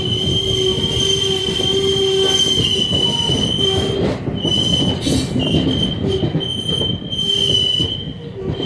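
A train rolls past on the Ramavarapadu–Vijayawada line, part of the Vijayawada–Secunderabad route, loud and close with sustained high-pitched wheel squeal over a heavy rumbling clatter.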